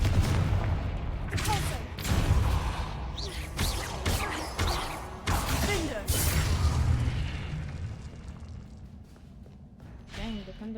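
Confringo spell blasts in the Hogwarts Legacy video game: a rapid string of loud, punchy bursts and thuds during combat, dense at first and then thinning out, with talking over the noise.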